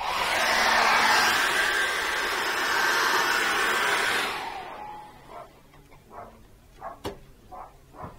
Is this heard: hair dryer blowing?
yes